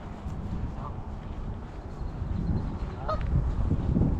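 Canada geese on a pond in Washtenaw County, sharing the water with mute swans, give a couple of short honks at moderate distance over soft wind and low background rumble.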